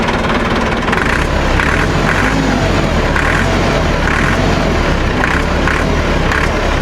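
A tractor engine runs continuously, a loud, close, unbroken rumble with faint rhythmic pulsing throughout and no other sounds standing out.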